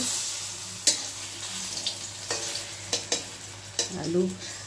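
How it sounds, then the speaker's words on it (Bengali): Papad dipped in batter fries in hot oil with a steady sizzle, broken by several sharp clacks of a utensil against the pan at irregular intervals. "আমি পাঁপড়গুলি ভেজে নেব"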